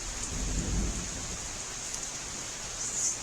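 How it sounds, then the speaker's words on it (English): Steady rain falling during a thunderstorm, with a low rumble of thunder swelling early and fading, under constant hiss of rainfall and no voices. "It's thundering."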